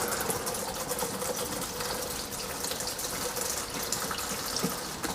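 Hot engine oil drains from a VW Golf GTI Clubsport, a thin liquid pouring in a steady, hissing splatter that runs continuously at an even level throughout, with no talking.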